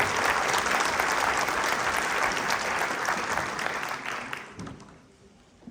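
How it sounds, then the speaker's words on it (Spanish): Audience applause at a university education lecture, a dense steady wash of many hands clapping that holds strong for several seconds, then thins and fades toward the end. "Fuerte el aplauso para ellos."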